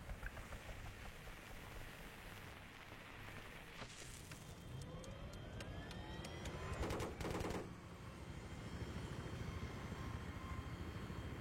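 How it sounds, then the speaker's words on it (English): An enemy helicopter drones faintly through a video game battle under a steady wash of background noise, broken by rattling bursts of gunfire around the middle and a louder volley later on. "Hey, I spotted an enemy chopper."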